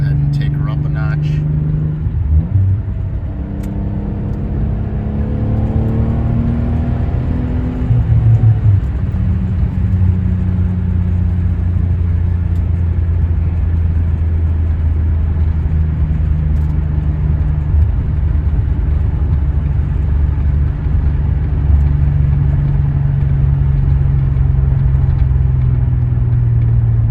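A 1990 Nissan 300ZX with factory original suspension accelerates while driving, its engine note climbing in a rising drone, then settling into a steady, loud rumble with road noise, as someone talks over it.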